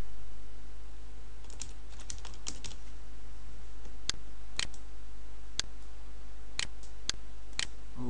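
Keystrokes on a computer keyboard while entering text in design software, a run of sharp separate clicks with uneven rhythm and short pauses, close to the microphone over a steady low background hum, with no voices.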